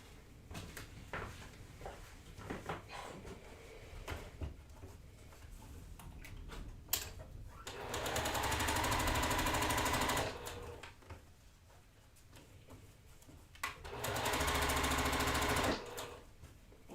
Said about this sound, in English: we're going to sew that long seam together